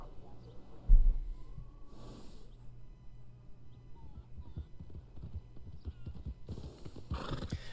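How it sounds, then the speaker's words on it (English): Black Arabian horse in Red Dead Online, a loud snort or whinny near the start, then steady hoof clip-clops and another whinny at the end, close and clear. "I'm using the Black Arabian horse."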